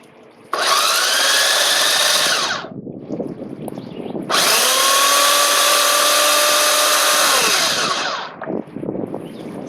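Food processor whirring loudly as it chops basil and garlic for pesto: two long, steady motor runs separated by a short pause, with the blade's pitch holding steady until each run stops.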